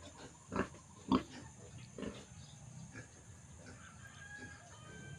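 Pigs in a pen behind a rural sty give a few short grunts early on, fairly faint and distant, with chickens clucking softly in the background and no talk.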